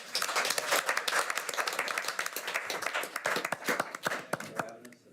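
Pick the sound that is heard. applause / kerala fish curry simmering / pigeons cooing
applause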